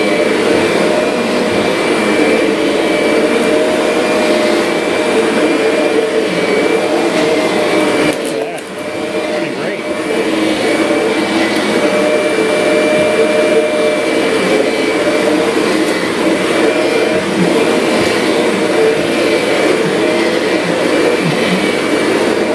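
Kirby Sentria upright vacuum fitted with a new impeller and pulley, running loud and close in a steady roaring whine with a brief dip midway, and a voice talking over it.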